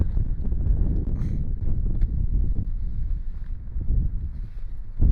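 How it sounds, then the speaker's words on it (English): Strong wind roars across the microphone at Dicks Pass, a high mountain pass in the Desolation Wilderness, a steady loud rumbling buffet that gusts and surges throughout, with no voices heard. "We're at the incredibly windy Dick's Pass."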